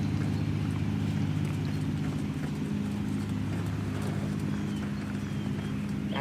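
A horse canters in a riding lesson, its hoofbeats a steady rolling rhythm under continuous low rumbling, close and moderately loud throughout.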